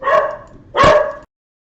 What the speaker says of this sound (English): Oops, sorry, my dogs.